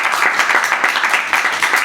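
An audience at a poetry reading applauds, a dense, continuous patter of many hands clapping at close range, steady and fairly loud from start to finish.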